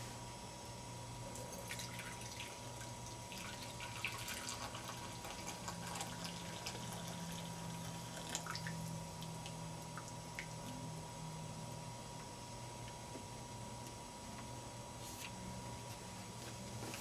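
Coffee poured from a JetBoil French press trickles and drips faintly into a cup outdoors, a soft, continuous liquid flow with scattered small splashes and low background hum.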